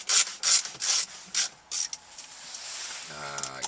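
Screws being backed out of the AC control panel of a Nissan Altima, a series of five short scraping, ratcheting turns close by, followed by quieter rubbing and a brief buzzy rattle, with no voices.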